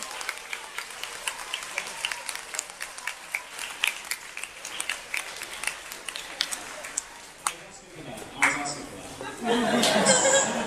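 Audience at an anime convention panel clapping hands in scattered, uneven claps, with chatter and chuckles, building into fuller clapping near the end.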